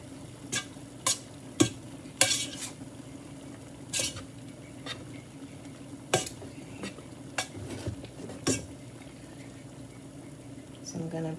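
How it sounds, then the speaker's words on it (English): Cooked macaroni noodles stirred in a pan for macaroni and cheese, giving soft scraping and clinking strokes at an irregular pace over a low steady hum, with quiet talk in places. "And I'm putting the noodles in the pan."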